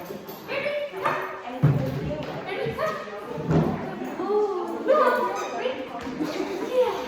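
Dogs bark and yip in short bursts close by, mixed with thumps and a person speaking over them.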